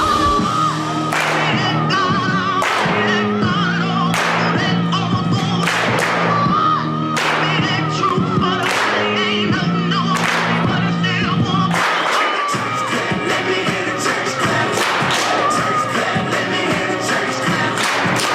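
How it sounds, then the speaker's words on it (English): Claps and stomps of a church clap dance keep a steady, driving beat, loud and close, over music with crowd whoops and shouts throughout. "So the church clap dance looks like this."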